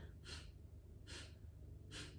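Forceful breathing exercise during a spring yoga session, three sharp rhythmic exhalations through the nose about a second apart, close and clear over a low steady background hum.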